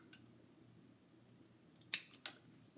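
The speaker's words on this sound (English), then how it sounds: "just take your scissors and cut that nice little dove's tail on the" Scissors snip a dovetail notch into the end of a paper strip for a 12x12 scrapbook page layout; a few quick, crisp cuts sound close by over a quiet background.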